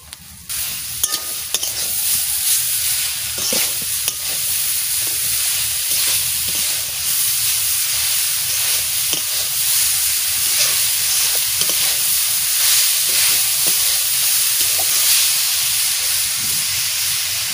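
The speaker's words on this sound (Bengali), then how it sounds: "নারকেল একটু পুলিতে লাল লাল করে ভেজে নেব।" Grated coconut fries in a pan for kuli pithe, a steady loud sizzle and hiss broken by frequent scraping stirs of a spatula throughout, with no voices.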